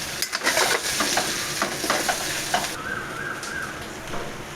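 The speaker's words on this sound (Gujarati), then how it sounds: "હવે આને હળવા હાથે હલાવી દેવાનું એટલે બધો વઘાર સરસ બધા પાંદડા ઉપર ચડી જાય." Colocasia leaves are stirred gently in hot tempering for farali patra, a steady sizzle and frying crackle with soft scraping strokes of the spoon against the pan, close and even.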